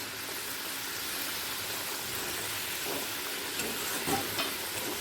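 Fried katla fish dropping into a curry that has just come to a boil, giving a steady, dense hiss and bubbling with a few louder splutters near the end, close and continuous with no voices.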